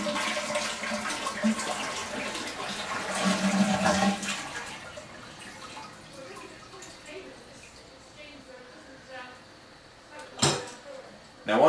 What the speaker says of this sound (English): So we'll flush the toilet and hold the lever down.